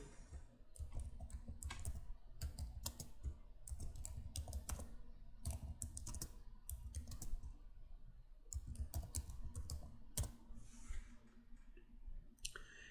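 A computer keyboard is typed on steadily during a slide-making lesson, with rapid close clicks and key taps running continuously with brief pauses and no talk.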